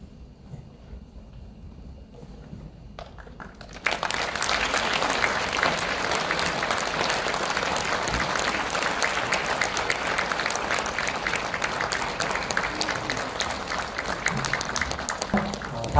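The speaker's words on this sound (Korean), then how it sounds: "내빈 모든 여러분들 함께 감사의 마음을 담아 박수를 쳐주시면 감사하겠습니다" Graduation ceremony audience breaks into sustained applause after a few seconds of quiet room murmur, the clapping loud, dense and continuous to the end.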